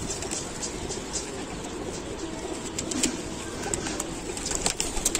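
Pigeons kept at a loft for sale coo repeatedly, soft low throaty calls layered over a busy background, nearby and continuous with no talk.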